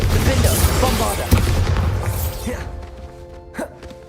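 Confringo and Bombarda spell blasts in Hogwarts Legacy, loud booming impacts and crackling bursts layered together, trailing off into quieter rumbles with a final burst near the end.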